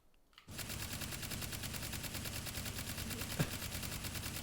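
Rapid automatic gunfire from an engineer gun in the VR shooter Hot Dogs, Horseshoes & Hand Grenades, starting abruptly after a short quiet moment and continuing as a loud, dense, steady burst.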